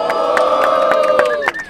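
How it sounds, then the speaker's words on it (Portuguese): Crowd at a Brazilian freestyle rap battle cheering and shouting loudly, a sustained roar of many voices with whoops rising over it, close and continuous. "Barulho para as rimas de Yong"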